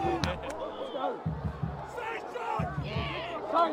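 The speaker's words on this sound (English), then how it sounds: "Crowd behind me is into it." Rugby league crowd at Kogarah for a Bulldogs versus Dragons NRL match, shouting and chanting in surges behind a nearby voice, lively but moderately loud.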